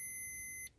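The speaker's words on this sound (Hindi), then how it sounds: "आप ये बीप का साउंड सुनिएगा जो गाड़ी से आएगी" A new 2023 Maruti Suzuki car gives a single steady electronic beep, clear and sustained for about two thirds of a second before cutting off, as its daytime running lights are switched off.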